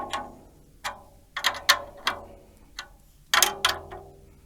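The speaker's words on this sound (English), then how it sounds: "I'm just going to bring all the lugs down." Drum key cranking the tension lugs of a rock drum kit's drum down by half turns to detune the head, giving a string of close, sharp ratcheting clicks in uneven bursts with short pauses.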